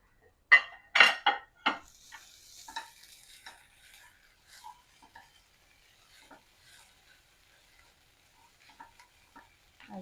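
Quinoa sautés in a pan while being stirred, several sharp scraping clatters of a utensil against the pan early on, then a faint sizzle with sparse light taps, close and quiet.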